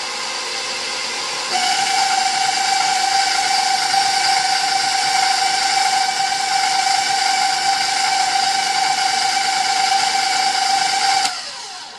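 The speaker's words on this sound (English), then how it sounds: "So you're just letting the KitchenAid mixer do the hard work." A KitchenAid stand mixer beats baked cake down into crumbs, its motor kicking up to a loud, steady whirring whine with airy hiss that holds evenly before cutting off near the end.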